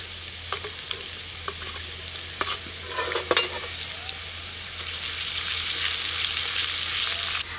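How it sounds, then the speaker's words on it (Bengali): Chopped ginger and garlic fry in a pan for chilli chicken, a bright continuous sizzle broken by clinks and scrapes of a spatula stirring, the frying hiss swelling louder toward the end. "আদা দেওয়ার পরও একটু নেড়ে দিলাম।"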